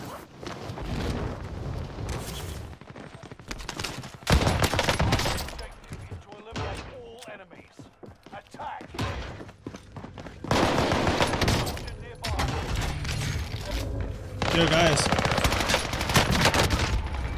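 Bursts of automatic gunfire in the shooter Warzone, loud rapid volleys repeating in clusters separated by quieter moments of movement and shuffling.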